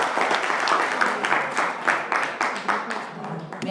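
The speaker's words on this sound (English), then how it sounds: "Please give a huge round of applause to all the speakers." Audience applause for the speakers at a youth leadership meeting, a steady wash of many hands clapping at moderate distance that runs for several seconds and slowly eases off toward the end.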